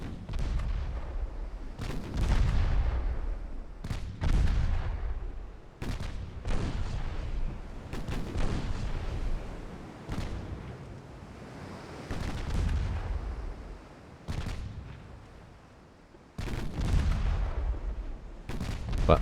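Heavy 6-inch naval guns on a light cruiser fire in the naval game UAD, a steady sequence of about ten booming blasts with rumbling tails, loud and close, with no talk.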